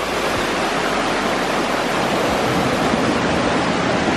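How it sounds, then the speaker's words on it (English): Triplet Falls waterfall pouring steadily at close range in a forest, a dense, unbroken roar of rushing water that fills the whole clip with no voices over it. "At the bottom of the Triplet Falls."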